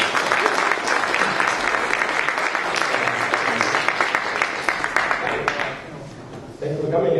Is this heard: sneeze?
no